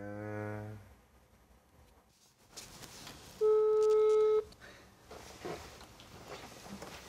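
A phone call is placed: a few electronic tones and a steady ringback-style tone sound through a handset, with a low voice murmuring in the background.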